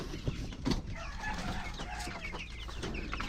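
Dekalb chickens at feeding time cluck and chatter in a busy flock nearby, a dense overlapping layer of short clucks and calls with a few brief louder bursts.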